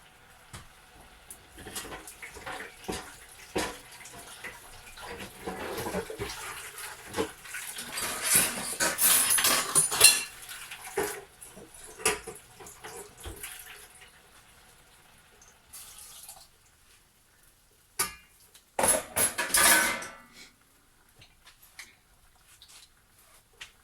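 Food and dishes are washed under a running tap, with steady splashing water and clinks of plates and utensils, close by, ending in a couple of louder splashy bursts after a lull.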